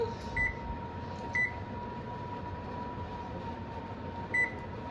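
An oven timer being set, giving a few short electronic beeps spaced about a second apart over a steady appliance hum.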